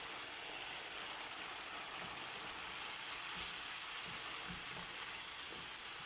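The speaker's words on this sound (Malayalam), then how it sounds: "ട്യൂണയും തക്കാളിയും കൂടെ നന്നായിട്ടൊന്ന് വേവട്ടെ" Tuna and tomatoes simmering together in a pan for pasta sauce, a faint, even bubbling sizzle with a few soft low knocks, no voices.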